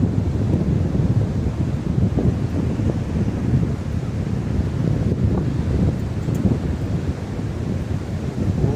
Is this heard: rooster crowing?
no